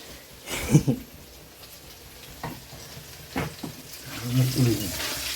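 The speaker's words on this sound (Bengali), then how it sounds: "এখন আলু ভাজা হচ্ছে" Potatoes frying and being stirred in a pan in a home kitchen, with intermittent sizzling and scraping bursts under a voice speaking Bengali.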